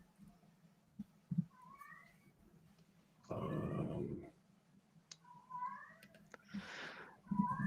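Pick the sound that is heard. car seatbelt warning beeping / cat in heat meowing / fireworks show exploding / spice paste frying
cat in heat meowing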